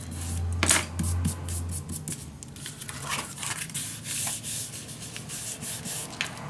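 Paper is burnished down onto a scrapbook page, making a continuous close scratchy rubbing with quick strokes. A low hum sits underneath.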